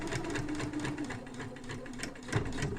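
Sewing machine stitching a zip into fabric for a small zippy purse, running steadily with a continuous mechanical whir and rapid needle clatter, close and alone, with a slight bump near the end.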